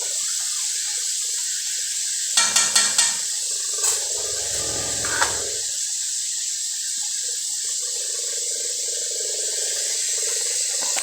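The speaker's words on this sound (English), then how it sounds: "as you can see, they're frying away" Pork chops sizzle steadily in hot grease, a continuous bright hiss with a few brief crackles and pops, with no one talking.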